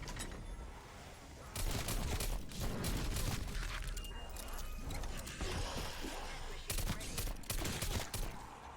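Dual-wield magnums firing in Call of Duty zombies on the Mauer der Toten map, a dense burst of gunfire that runs through most of the clip with mechanical clatter and a voice talking over parts of it.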